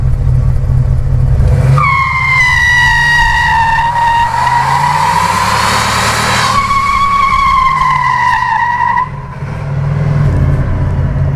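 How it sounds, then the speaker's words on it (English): A 1981 Pontiac Turbo Trans Am with the 301 engine doing a burnout, loud engine roar under a long, high, wavering tire squeal that rises, holds and then fades back to the engine. "So it turns out that a 1981 Turbo Trans Am 301 can indeed do a burnout."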